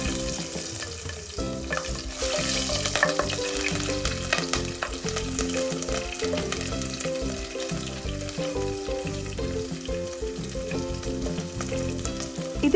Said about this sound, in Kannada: ಸೊ ಬೆಳ್ಳುಳ್ಳಿ, ಹಸಿರು ಮೆಣಸಿನ್ಕಾಯಿ ಇಷ್ಟನ್ನು ಆ್ಯಡ್ ಮಾಡಿಕೊಂಡು ಸ್ವಲ್ಪ ಫ್ರೈ ಮಾಡಬೇಕು